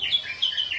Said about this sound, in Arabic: هذا الطير يقولون عدائي